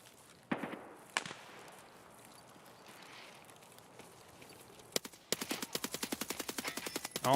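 Heavy-recoil automatic gunfire in Escape From Tarkov: a couple of isolated loud shots, a quiet stretch, then a fast, evenly spaced burst of close, punchy rounds running to the end.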